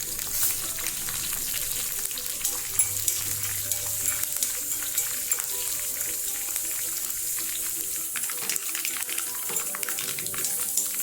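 Fenugreek seeds, dried chili and curry leaves fry in hot oil for a pineapple pachadi, giving a quiet, steady sizzle with faint crackles throughout.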